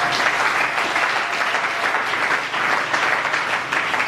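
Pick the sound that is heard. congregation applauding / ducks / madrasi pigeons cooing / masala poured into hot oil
congregation applauding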